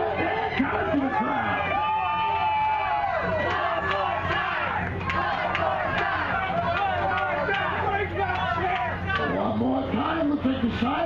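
A fairground crowd cheers and shouts around a midget wrestling show, with dense, loud, continuous roaring and excited voices that never let up.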